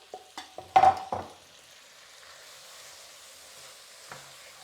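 Chopped tomato with berbere and spices hitting a hot pan: a few sharp clatters and scrapes of stirring at the start, then a soft, steady sizzle with one more light knock near the end.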